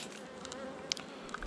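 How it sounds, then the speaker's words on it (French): A wasp flies near a beehive, a faint, thin buzzing drone with a few brief sharper flicks as it moves close by, heard alone. "Qu'est-ce que tu fais la guêpe?"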